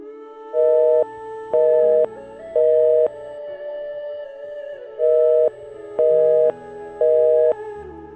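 A phone call tone from a switched-off phone: six loud, evenly spaced beeps in two groups of three, separated by a steady lower synthetic tone, with no voice present.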